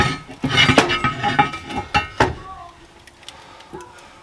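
A heavy-duty metal log guard is pulled out of a wood-fired oven. It gives a run of close, sharp metallic clanks and scrapes over about two seconds, then a few fainter knocks and a lingering ring.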